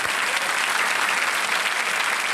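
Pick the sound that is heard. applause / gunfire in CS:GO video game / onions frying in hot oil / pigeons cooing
applause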